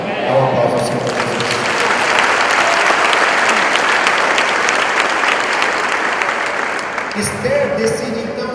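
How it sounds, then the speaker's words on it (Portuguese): A church congregation at a Sunday service bursts into sustained applause, loud and dense throughout, with a brief lull and voices near the end. "Dá um aplauso ao Senhor Jesus."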